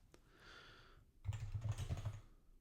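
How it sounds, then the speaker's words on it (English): Typing on a computer keyboard: a brief, faint patter of soft key clicks in a quick cluster, close by, after a moment of quiet hiss. "Oh, excuse my typing."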